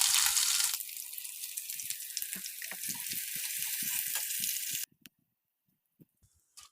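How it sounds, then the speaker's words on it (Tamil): Water pours into a mixer jar to rinse it, a loud continuous splashing rush that cuts off abruptly, followed by near silence and a couple of faint knocks. "மிக்சிக்கு கழுவி கொஞ்சம் தண்ணியோடு ஊற்றிக்கலாம்."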